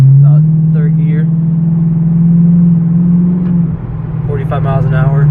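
A 2019 Lexus RC F with an Invidia Q300 cat-back exhaust and mid-pipe, cruising in third gear: a loud, steady, low engine drone inside the cabin, with someone talking over it.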